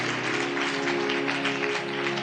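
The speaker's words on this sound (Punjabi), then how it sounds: "ਤਾਲੀ ਮਾਰੀਏ ਜ਼ੋਰ ਤੇ।" A congregation claps steadily at a religious sermon, a soft continuous patter of hands over sustained tonal music or humming in the background.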